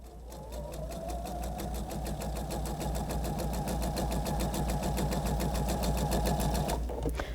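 A sewing machine stitches across the corner of a quilt square, a rapid, even needle clatter over a steady motor hum, close and continuous for several seconds before slowing at the end.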